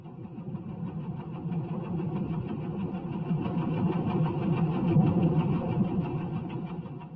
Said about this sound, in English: This is the sound of a ship passing by.